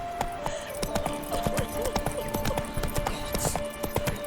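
Roach, the horse in The Witcher 3, at a quick gallop, dense rhythmic hoofbeats close and continuous over a sustained musical tone, with a voice briefly heard.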